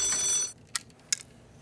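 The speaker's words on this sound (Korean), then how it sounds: "전화가 걸려오고 있습니다" An incoming call on an office telephone, shown as a sustained high electronic ring for about half a second, then two short separate ring bursts after a pause, fairly loud with no talk.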